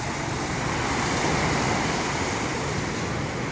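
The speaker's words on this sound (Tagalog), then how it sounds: "Oh, malakas ang alon." Heavy surf roars steadily close by, a dense wash of crashing sea waves with wind, no voices.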